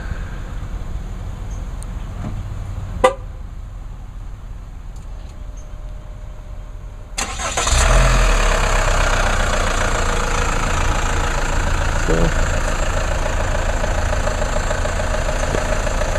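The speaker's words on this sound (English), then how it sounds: "I'll just remote start it. This is actually a warm start" A car is remote started while already warm: after a quiet stretch with a click, the engine catches with a burst and settles into a steady, even idle heard close by.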